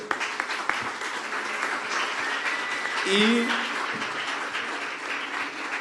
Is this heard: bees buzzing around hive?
no